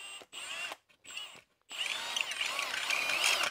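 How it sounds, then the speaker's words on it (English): A power drill whines in a few short bursts, then bites in, drilling out a mounting hole on a 2008 Nissan Xterra and running steadily, close and fairly loud. "we're probably going to go in and just drill out this hole a little bit more"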